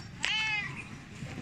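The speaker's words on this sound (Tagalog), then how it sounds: "Metra, ang suplada kong pusa." A single short meow from a cat, clear and close, rising then fading over about half a second against a quiet room.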